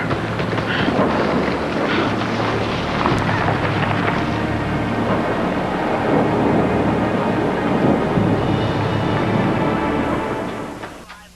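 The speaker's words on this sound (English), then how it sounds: "Just the wind, Scott, listen to that." Strong wind and a storm roar outside in a continuous, loud rush with rumbling undertones, holding steady before tapering off at the end.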